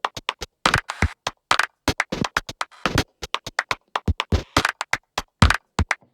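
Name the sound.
modular synth claps playing with drum break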